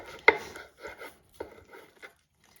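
Cabbage being chopped finely on a cutting board for sauerkraut, a few crisp knife strikes at uneven intervals, one sharp and loud, the rest softer, close up and without talk.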